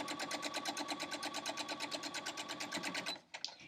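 A sewing machine stitches pieces of a Friendship Star quilt block in a steady, rapid rhythmic run of needle strokes lasting about three seconds, then stops with a few small clicks.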